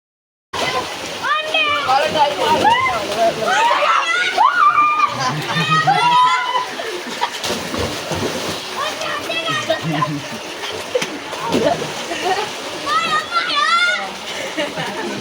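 Children splash and play in cold water at a farm tubewell, with constant water noise, excited shouting and chatter throughout.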